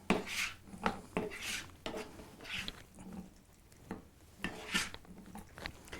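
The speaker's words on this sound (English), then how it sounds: "So now we'll go ahead and add the beans. We'll stir these in." Beans being stirred and folded into a watery vegetable sauce in a pan, with several soft scrapes and clinks of a utensil against the cookware, spaced irregularly and heard close up.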